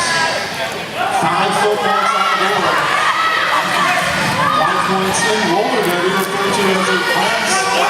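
A crowd at a roller derby bout cheers and shouts continuously at moderate volume, mixed with excited voices and chatter.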